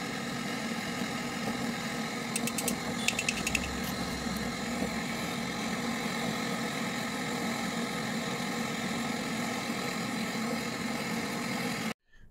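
A vacuum pump runs steadily and continuously to evacuate a Samsung double-door refrigerator's sealed system after condenser welding, with a constant mid-level drone and a few brief clicks partway through before it cuts off abruptly at the end.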